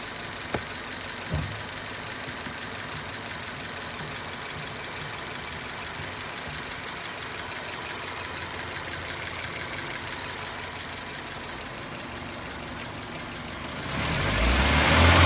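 A 1995 Geo Prizm engine idles steadily during a vacuum test, a constant mid-pitched hum with a faint ticking, close and unchanging, until a louder rushing swell in the last second.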